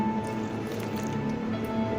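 Wet squishing and dripping as water is slowly added to gram flour batter seasoned with salt and red chili powder, soft close mixing sounds with no talk.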